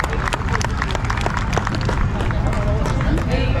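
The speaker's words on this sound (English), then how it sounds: "Give your guys a round of applause." A crowd applauds and cheers for Texas Parks and Wildlife staff at a Bassmaster Elite fishing tournament on Lake Fork, with dense, steady clapping mixed with voices and crowd noise throughout.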